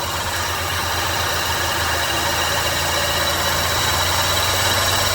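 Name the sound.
2006 Chrysler Town & Country 3.8L engine idling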